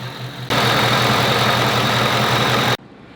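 A car fitted with a Roush supercharger idles up close, a loud, dense, steady rumble with a faint whine that switches on abruptly and cuts off just as sharply.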